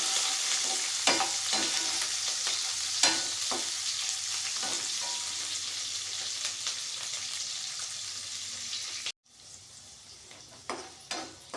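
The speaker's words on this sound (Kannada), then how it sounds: "ಇದು ಸ್ವಲ್ಪ ಆದಷ್ಟು ಚೆನ್ನಾಗಿ ರೋಸ್ಟ್ ಆಗಬೇಕಿದು. ಬರೀ ತುಪ್ಪಲ್ಲಿ ಮಾಡಿದ್ರೂ ಚೆನ್ನಾಗಾಗುತ್ತೆ, ಬರೀ ಎಣ್ಣೆಯಲ್ಲಿ ಮಾಡಿದ್ರೂ ಕೂಡ ಚೆನ್ನಾಗಾಗುತ್ತೆ" Ingredients for capsicum mint rice roasting in ghee or oil in a pan, a steady close sizzle with stirring scrapes and clinks throughout, briefly cut near the end before the frying resumes.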